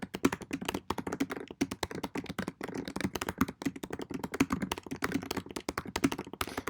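Rapid, irregular tapping on a computer keyboard while text is entered into an online article exercise, a steady stream of close, crisp key clicks with no talking.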